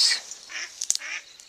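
Several mallard duck calls ring out outdoors, short bright honking quacks scattered over a second or so, moderately close with some background hiss.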